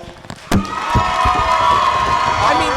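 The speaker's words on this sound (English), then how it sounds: "give these guys the round of applause" At a professional wrestling show, a sharp thud gives way to a crowd's rising cheers and shouts, a loud, sustained roar of voices that fills the hall.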